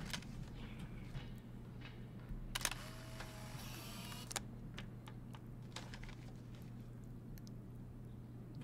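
A camera shutter clicks as a selfie is taken in the video game Life Is Strange, a short burst of mechanical shutter noise among soft keyboard-like taps, quiet and close, with no talking.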